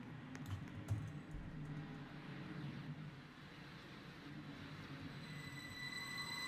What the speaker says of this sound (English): Oh yeah, that sounds like a 755.